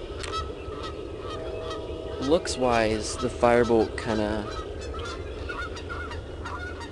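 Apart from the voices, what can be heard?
geese honking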